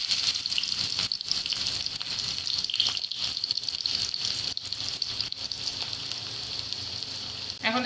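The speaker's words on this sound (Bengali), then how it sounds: "এখন পেঁয়াজ দিয়ে দিব।" Onions sizzling in hot oil in a wok, left over from frying chicken roast, with a loud, continuous close-up crackle and hiss broken by a few stirring scrapes.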